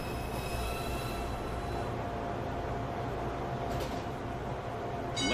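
A Manhattan-bound NYC Subway 1 train sits at a station, a loud steady rumble of wheels and rail noise with a faint brief squeal toward the end.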